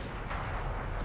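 A tank cannon fires in a tank video game on an Arctic map, one broad heavy blast with a rumbling tail filling the whole short moment, loud and close.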